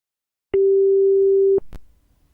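A single steady electronic ringback tone sounds for about a second on an outgoing Asterisk call to a mobile phone, ending with a click, then a brief noise burst.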